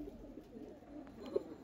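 A male racing pigeon coos softly and steadily in low, throaty tones, faint and close against a quiet room.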